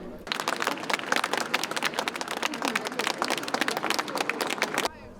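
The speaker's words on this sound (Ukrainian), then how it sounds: "Бригаду пасажирського поїзда Херсон Львів на пероні Львівського вокзалу оплесками зустріли колеги-залізничники." Railway workers on the platform of Lviv station applaud the crew of the Kherson–Lviv passenger train with a sustained burst of many hands clapping, fairly loud and dense, ending abruptly near the close.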